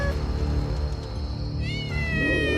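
A cat meows in a horror story, a couple of drawn-out wailing cries over a dense, droning music bed.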